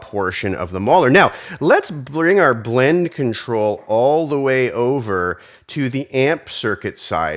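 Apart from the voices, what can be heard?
No everyday noise stands out behind the speech.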